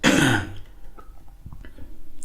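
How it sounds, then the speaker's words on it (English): A short burst of harsh throat clearing or coughing at the start, close to the microphone, followed by quieter rustling and breathing. "I'm coughing a lot."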